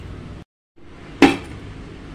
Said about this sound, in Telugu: మూత పెట్టి ఉడకబెట్టుకుంటున్నాను.